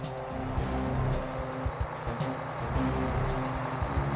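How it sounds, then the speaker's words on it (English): A truck rumbles around in the Nintendo 64 game Mission Impossible, a steady low engine drone with small bumps and shifts, moderately loud and continuous with no talk. "waiting for the poxy truck to come around"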